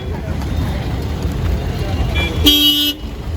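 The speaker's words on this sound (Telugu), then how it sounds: "మా దుర్గాప్రసాద్ మా కారు వచ్చింది." A car arrives at a showroom and gives one short, sharp honk of its horn near the end, heard close over steady outdoor background noise.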